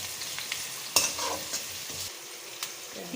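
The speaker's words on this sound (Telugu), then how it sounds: "వాటిని బాగా ఎర్రగా వేగనివ్వాలి. ఇలా బాగా కలదిప్పాలి అండి." Sliced vegetables frying in a pan for homemade noodles, with a steady soft sizzle and occasional scraping clicks of stirring, quiet and close, no voices.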